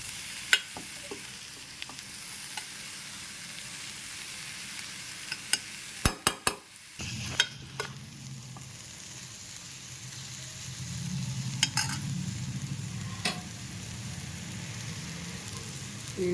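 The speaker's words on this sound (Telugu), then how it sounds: "ఇదంతా టూ మినిట్స్ మగ్గనివ్వాలి ఆయిల్లోనే" Cluster bean curry cooks in oil with a quiet, steady sizzle. Midway, a few sharp clatters from a spoon against the pan stand out, followed by a lower bubbling hiss as the cooking continues.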